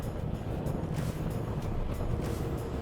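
Inside the cab of a Renault Trucks lorry with a turbo compound engine, the exhaust brake slows the truck for a roundabout, producing a steady low rumbling drone that continues throughout.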